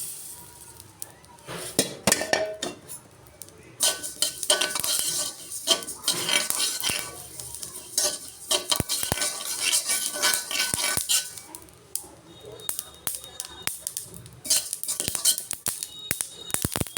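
Flax seeds are stirred and roasted in a pan, with a spoon scraping and clinking against the metal in irregular bursts, soft and close, with no voices.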